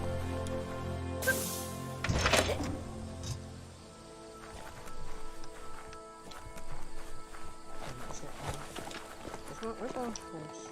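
Horse hooves clip-clopping in the Biomutant video game, soft irregular hoof steps in bursts among game effects and music, with someone talking over parts of it.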